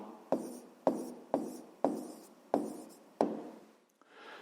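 Pen strokes on paper while writing a math answer, six sharp taps in a steady rhythm, each trailing off into a soft scratch, followed by a faint rustle.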